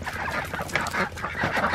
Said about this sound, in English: So here's the ducks.